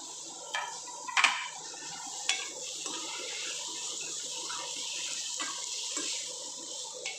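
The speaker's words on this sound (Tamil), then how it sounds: "நம்ம சுடு தண்ணியில் போட்டு வச்சுருந்த பூவை நல்லா பச்சை தண்ணியில் நல்லா கழுவிட்டு எடுத்துக்கலாம்" Blanched cauliflower florets are rinsed under running tap water, a steady stream of splashing close by, broken by a few sharp clinks of a bowl or utensil against the sink.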